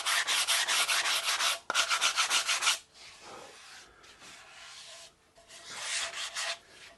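Sandpaper rubs across a guitar body being prepared for finish in fast, close, rhythmic back-and-forth strokes, briefly pausing then resuming, with a quieter stretch in the middle.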